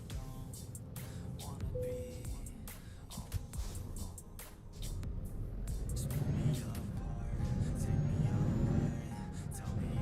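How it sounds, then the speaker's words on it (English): A 770-horsepower truck engine in Euro Truck Simulator 2 drones steadily and loud at a low pitch, swelling as it revs higher toward the end, with scattered clicks and knocks over the rumble. "The engine noise of this truck's a little bit weird though."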